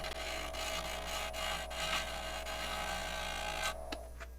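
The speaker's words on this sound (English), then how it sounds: "let's see if we can scrape some of that knot a little bit, a little shear" A hand scraper shears across a wood knot on a live edge burl, making a steady, close, dry rasping scrape that runs continuously with slight surges in intensity, then eases off near the end.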